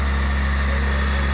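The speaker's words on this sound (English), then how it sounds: "It's also idling high, so I'm going to put an extra throttle spring on real fast" A tractor engine idles fast with a lean-running carburetor, giving a steady, loud low drone with a constant hum and no talking over it.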